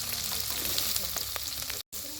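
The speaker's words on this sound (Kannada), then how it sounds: "ಎಣ್ಣೆ ಕಾದಿದೆ. ಈರುಳ್ಳಿ ಹಾಕುವ, ಹಸಿಮೆಣಸಿನ್ಕಾಯಿ ಹಾಕುವ." Onions and green chillies fry in a small amount of hot oil for an egg and honagone greens palya, a steady close crackling sizzle that continues throughout, broken only by a brief dropout near the end.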